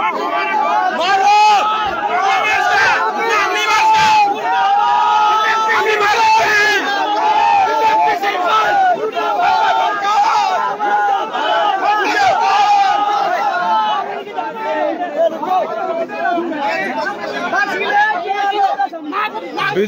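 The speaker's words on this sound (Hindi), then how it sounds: "बीजेपी मुर्दाबाद के नारे लगने शुरू हो गए हैं" A protest crowd at a chief minister's public hearing in Dongra Ahir village, Mahendragarh, chants slogans and shouts in a dense, continuous roar, with many loud voices layered over each other close by.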